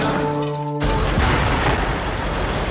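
An explosion near Building 7 in lower Manhattan on September 11, caught on news footage: a hum cuts off into a loud, sustained broadband boom and rumble that fills the rest of the moment, close and heavy.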